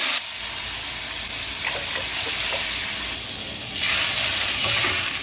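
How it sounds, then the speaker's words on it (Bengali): Water poured into a pan of simmering rohu fish curry makes a steady, close pour and sizzle, growing louder and brighter toward the end. "আমি এইবার ঝোল দিচ্ছি বেশি জল দেবো না"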